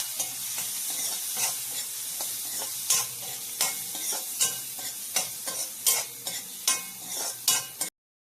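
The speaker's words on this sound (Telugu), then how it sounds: "ఆనియన్స్ మనకి బాగా ఫ్రై అయ్యాయి" A large chopped onion frying in a pan, a steady close sizzle broken by repeated sharp scrapes of stirring that grow more frequent toward the end before cutting off.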